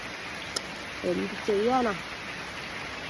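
Steady rain falls in a dense, even hiss that runs through the whole stretch, while someone speaks briefly over it.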